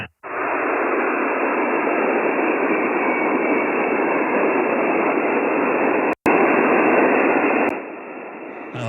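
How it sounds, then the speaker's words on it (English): Band noise on the 20-meter HF amateur band at night, received on an Icom transceiver: a loud, steady hiss of static filling the receiver, briefly cut once and dropping slightly near the end. "I think this is band noise because it's normally not this noisy at night"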